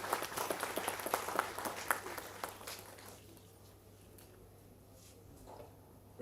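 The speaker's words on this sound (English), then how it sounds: "I would request each one of you to join your hand in a big round of applause for all the honorable dignitaries" An audience at a university student induction ceremony claps for dignitaries on stage, dense rhythmic applause that gradually thins and fades out after a few seconds.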